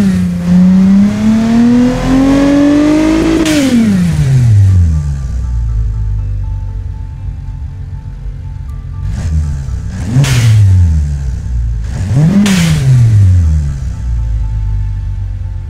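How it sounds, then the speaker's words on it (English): A simulated Nissan VG30DETT twin-turbo V6 in the Automation car game revs hard, climbing to a loud peak and dropping, then gives two sharp throttle blips near the end, close and without any voices. "it's quiet, it's sporty at low RPM, and it's crazy and loud at high RPM"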